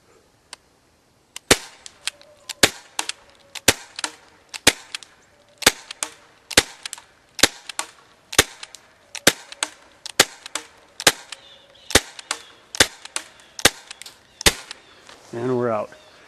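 An AMC41 CO2 airsoft pistol fires a long string of about eighteen sharp, loud cracks at a steady pace outdoors, ending with a brief hiss of gas.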